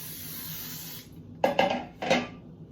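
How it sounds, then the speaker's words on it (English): After a faint hiss fades, two short bursts of baking spray hit a metal bun pan up close, each a quick pressurized whoosh. "we're going to make sure we spray our bun pan very, very good"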